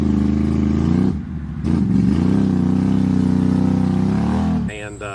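A Can-Am XMR Renegade ATV with gear reduction and clutch work drones loudly and steadily while stuck in thick mud, dipping briefly before pulling again, then rising into a sharper rev at the very end.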